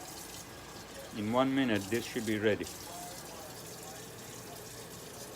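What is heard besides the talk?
water poured into cooking rice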